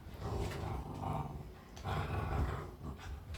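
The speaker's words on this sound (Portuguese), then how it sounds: "Não sei se vocês estão escutando os rosnados dele brincando comigo" A dog growls in rough bursts while playing, a deep continuous snarl swelling and easing through most of the moment, close and fairly loud with no talk.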